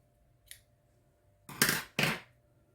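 Scissors snip through knitting yarn: one faint click, then two crisp, close cuts in quick succession in an otherwise quiet room.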